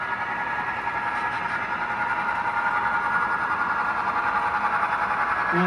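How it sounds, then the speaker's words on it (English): A long coal train with multiple locomotives rolls past, a steady broad rumble with grinding metallic tones holding at constant loudness throughout, close by and continuous with no talk. "Crazy coal train."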